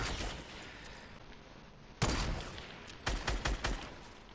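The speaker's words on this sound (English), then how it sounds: "Let me finish him with a sniper" Gunfire in a video game: a sharp lone shot, then a tight cluster of several rapid cracks about a second later. The shots are close and loud over quiet background noise.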